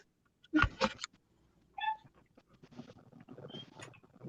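A cat in a snowy outdoor spot gives one short, tonal meow partway through, preceded by loud bumps and clatter and followed by soft rustling and scuffing nearby.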